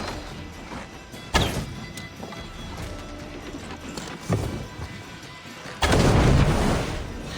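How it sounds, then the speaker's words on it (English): An upgraded incendiary bomb trap goes off during a siege of Paris in Assassin's Creed Valhalla, a sudden loud burst at the end over a busy game mix of hoofbeats and thuds. "For that incendiary bomb trap."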